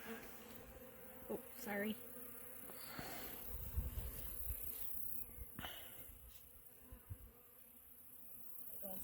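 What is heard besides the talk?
bees buzzing around a beehive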